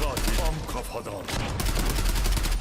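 A Galil AR rifle fires in a video game in quick, rhythmic automatic bursts, loud and close, with a voice talking faintly beneath the shots.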